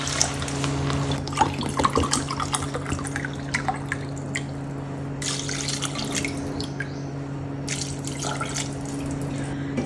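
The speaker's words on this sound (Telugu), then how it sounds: "ఇప్పుడు నీళ్ళు పోసేస్తాను" Water poured into a pressure cooker of rice with broad beans, making a steady splashing rush with scattered drips over a constant low hum, no voices.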